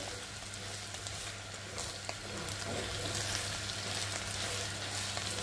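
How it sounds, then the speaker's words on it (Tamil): Beetroot sautéing in a little sesame oil in a pan for a Jaffna-style Sri Lankan curry, giving a steady, close frying sizzle throughout with faint stirring, no voices. "கொஞ்சமாக எண்ணெய் ஊற்றி தான் நாங்கள் இதை வதங்க விடுறோம் அதுவும் நாங்கள் நல்லெண்ணெயில் வதங்க விடுறபடியாக இது நல்லது"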